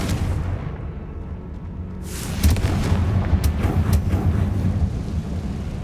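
Confringo fire-blast spell in Hogwarts Legacy, a deep rumbling explosion that swells midway and rolls on with crackling bursts, loud and close, no speech.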